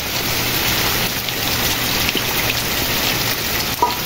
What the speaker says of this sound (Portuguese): Olha aí, água escorrendo.